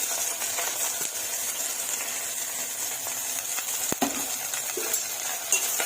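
Onions and green chilies fry in hot oil for gongura boti, giving a soft, constant sizzle; a utensil stirs and scrapes the pan, with a sharp clink near the middle and another toward the end.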